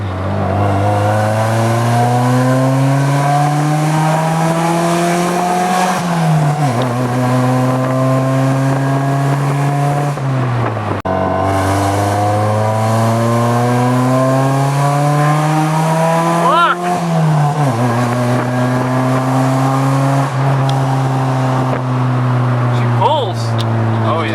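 A 1996 Honda Accord with a chipped P28 ECU revs hard from inside the cabin during a pull, the engine note climbing steadily, dropping sharply at a downshift, then climbing again, loud and continuous.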